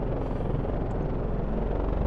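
Steady droning engine of a plane from the MrCrayfish Vehicle Mod in Minecraft, a continuous loud rumble with fluttering low-end pulsing, heard alone without talk.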